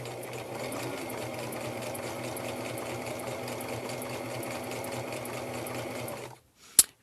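A domestic sewing machine stitches a seam on a fleece hat, a steady whirring hum that runs evenly for several seconds, then stops with a short clunk at the end.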